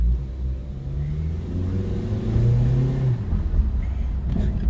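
A 2007 Mitsubishi Eclipse engine revs up and settles, heard close and steady: a smooth mid-pitched rise in engine speed that falls back toward idle, with a continuous low rumble throughout.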